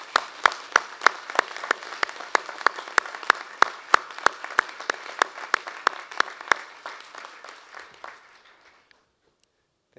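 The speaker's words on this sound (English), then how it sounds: "give them a big round of applause for all the help they've given you over the last few years" Graduates at a UTS Faculty of Science graduation ceremony give their friends and family a big round of applause: dense, sustained clapping with sharp individual claps on top, thinning out and fading to silence near the end.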